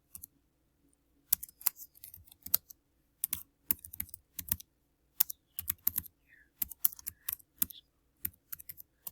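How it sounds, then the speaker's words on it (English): Keys clatter on a computer keyboard as a message is typed, quiet bursts of clicks with short pauses between runs, close and alone with no talk. "and then down here you type your message."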